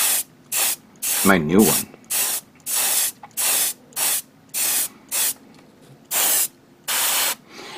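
An airbrush sprays VicHobby acrylic paint thinned with water in a rhythmic series of short bursts, each a loud hiss lasting about half a second, with a brief spoken remark between bursts.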